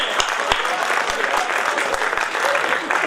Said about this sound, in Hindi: आदरणीय मिश्रा जी, आप भी ताली बजा सकते हैं।